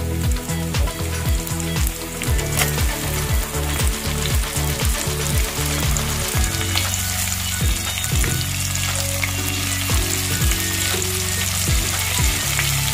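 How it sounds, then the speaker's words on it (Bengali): Tomatoes frying with onions in a pan for a Bengali-style tilapia fish curry, a loud continuous sizzle broken by regular scraping stir strokes of a spatula against the pan, close and without talk. "টমেটোটাও কিছুক্ষণ ভাজা হবে, একটু টমেটোর কাঁচা গন্ধটা চলে যাবে।"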